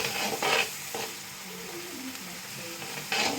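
Tomato, ginger and masala frying in a pan for egg curry, with a soft steady sizzle and a few louder bursts of spoon stirring and scraping up close.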